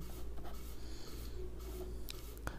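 A pen scratches across paper during a Hindi-medium class 9 maths lesson, soft and close, with short strokes and pauses and a couple of sharper ticks near the end.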